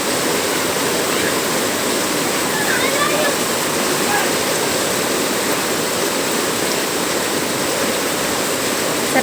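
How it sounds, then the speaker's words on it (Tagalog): Heavy rain and flooding water in a street, a dense, steady rushing roar like a waterfall throughout, with faint voices in the background. "Hindi po sila makatawid kasi sobrang lakas ng ulan"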